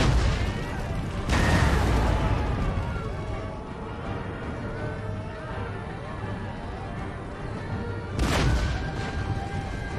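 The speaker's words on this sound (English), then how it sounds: "but that was a really nice couple cannon shots through the breach" Heavy cannon and artillery fire in an Empire: Total War siege battle, with booming blasts at the start and near the end over a constant rumbling battlefield din, someone talking throughout.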